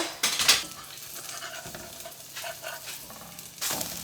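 A fragile coconut flour pancake fries in a pan and is flipped with a big spatula: a steady sizzle runs throughout, with sharp scraping bursts near the start and again at the end.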